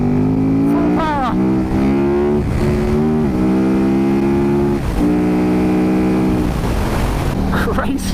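KTM Super Duke 1290 R motorcycle accelerating hard at full power in third gear from about 4,500 rpm, a loud, close engine roar whose pitch climbs steadily through successive pulls, with brief dips at gear changes.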